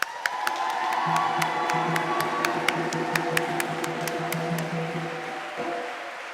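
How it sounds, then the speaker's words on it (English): An audience at the opening of the Reveal 2010 gathering for emerging female spiritual leaders claps, stomps and cheers, a dense steady wash of crowd noise with a rhythmic thumping pulse running through it. "Please clap, stomp, or bang something loud with me"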